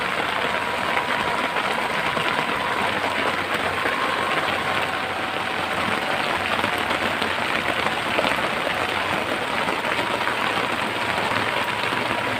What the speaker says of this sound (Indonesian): Wow, hujannya besar sekali